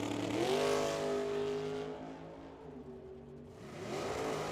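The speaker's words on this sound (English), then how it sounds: "Here comes the Camaro. There goes the Firebird." Camaro and Firebird drag racing cars launch at a drag strip, engines roaring loud and close at first with rising pitch, then fading somewhat as they pull away, before another engine swells back up at the end.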